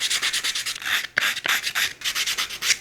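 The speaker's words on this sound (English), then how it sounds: "so we're just gonna sand them down real quick" Rough, ragged wooden edges of a DIY spice rack made from an ironing board are hand-sanded with quick rhythmic strokes, a series of close, scratchy rubbing bursts with a short pause partway through.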